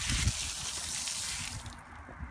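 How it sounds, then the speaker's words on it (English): Tap water runs in a steady, full rush for a Karcher HD 1050 DE pressure washer hose hookup, a continuous close splashing hiss that eases slightly near the end. "Water's already running."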